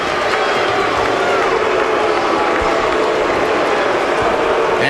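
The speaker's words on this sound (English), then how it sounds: "And the crowd indicates what they think of the nature of the action in round one" Arena crowd at a boxing match between Fres Oquendo and Chris Byrd reacting during round one, a loud, steady roar of many voices filling the space without letup.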